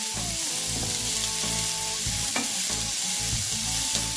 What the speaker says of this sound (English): heat a little bit of your oil and add your onions and your celery and saute them for a couple minutes